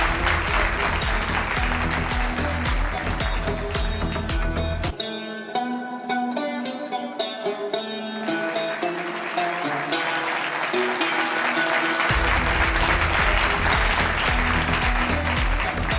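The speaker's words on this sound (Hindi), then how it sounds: "जोरदार तालियां होनी चाहिए Aspire" Audience applause at a gala dinner award presentation, dense sustained clapping from a large crowd throughout, with a musical passage rising briefly in the middle, loud and full, no speech.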